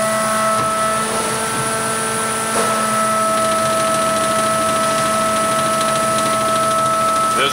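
A 1996 Vacuumatic Viscount 2 programmable paper counter runs in count mode with a loud, steady mechanical whine and drone, holding constant tones throughout at close range.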